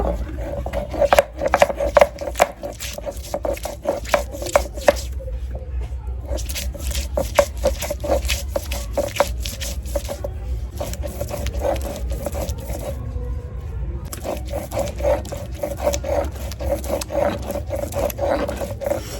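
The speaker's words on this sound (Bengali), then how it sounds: "এখন মাংসের জন্য আদা রসুনটা বেটে নেব" Ginger and garlic are ground into a paste by hand with rhythmic, repeated rough scraping strokes, close and steady, with a brief pause partway through.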